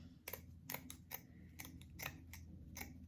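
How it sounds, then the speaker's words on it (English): Scissors snip lengthwise through burlap strips, giving a quick series of crisp, close cuts, roughly seven or eight in a loose rhythm, quiet and alone. "And then all I did was I just cut this lengthwise in half."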